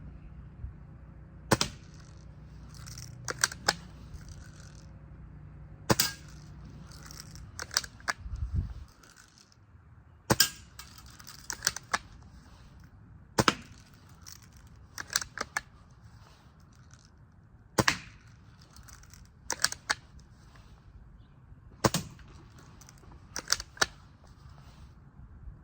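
Daisy 1105 airgun fired repeatedly, each shot a sharp, close snap spaced a second or two apart, with small mechanical clicks between, a low hum fading out early on.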